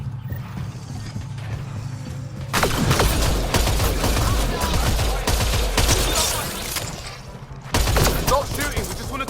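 Weapon fire in the sci-fi video game Mass Effect Andromeda: loud bursts of rapid automatic shots and mechanical clatter after a quieter start, with a short pause before another volley near the end.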